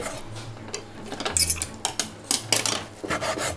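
A knife cuts across the grain of a fish fillet. Close, crisp taps and slicing scrapes come in an irregular series, with no talking.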